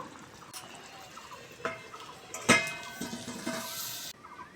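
A lid set over a pot of loitta fish cooking on a village stove, with soft metallic clinks and a sharp clatter of metal on metal amid a low simmering hiss.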